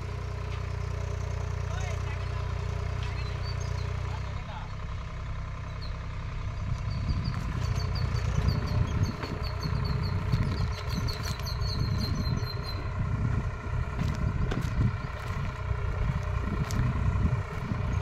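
Swaraj 855 FE tractor engine working steadily under load while pulling a 9-ton spring cultivator, a continuous low diesel drone with a change in pitch partway through and people talking over it.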